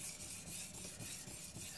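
A knife blade rubbing on a Chosera whetstone while the bevel is worked, giving a soft, steady gritty rasp with faint repeated strokes, close and quiet, no voices.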